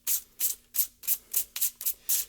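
Rhythmic scraping strokes, about eight in a row, rasp across a reflector surface as it is scratched to look aged, close and steady with no talk.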